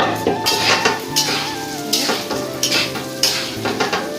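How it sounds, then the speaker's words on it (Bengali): Rice fries in a pan with a close, steady sizzle, while a spoon scrapes and clinks against the metal in repeated strokes. "চালটা ভেজে দিলাম"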